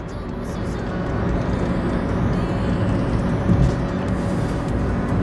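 A VW Polo Vivo city car drives along with a steady, fairly loud broadband road and engine rumble that stays constant throughout, with no clear speech.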